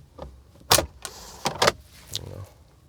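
A Honda Pilot power window motor whirs briefly as the laminated glass lowers fully, surrounded by a few sharp clicks and knocks inside the vehicle, close and fairly quiet.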